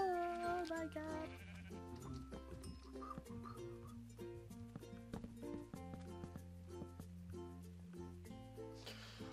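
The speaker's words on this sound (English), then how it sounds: "It's a baby sheep! It's a baby sheep!" A baby sheep bleats in a video game, its wavering cries heard at the start over a steady tonal game soundtrack that continues throughout, fairly quiet overall.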